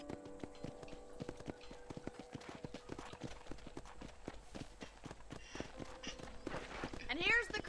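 Horse hooves clip-clop in a steady walking rhythm in the Red Dead Redemption video game, with the game's music under them and a brief tonal call near the end.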